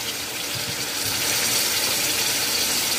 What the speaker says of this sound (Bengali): রেড চিলি সসের বোতল জল ধুয়ে দিয়ে দিলাম